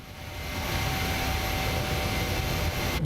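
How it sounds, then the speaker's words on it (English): A PMDG 737 jet takes off in Microsoft Flight Simulator, its engines swelling into a steady, broad roar with a thin whine running through it, heard alone without talk. "We have takeoff."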